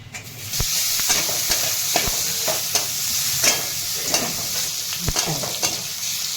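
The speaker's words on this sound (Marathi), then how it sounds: "तेला मिठामध्ये कारलं छान परतून घेत आहेत" Bitter gourd sautés in hot oil with garlic, coconut, turmeric and salt, giving a steady close sizzle broken by repeated scraping stirs of a spoon in the pan, with no voices.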